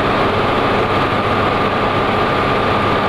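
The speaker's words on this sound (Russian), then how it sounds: "насосные станции не затоплены, двигатели и насосы работают в штатном режиме." Engines and pumps running at a water pumping station, a loud, steady mechanical hum and rumble that stays constant and unbroken, with no voices.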